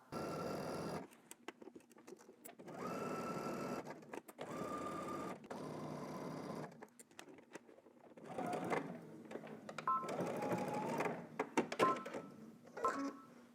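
A sewing machine stitches a garment seam from dot to dot with backstitching, running in several steady whirring bursts of a few seconds each, separated by brief pauses and faint handling clicks.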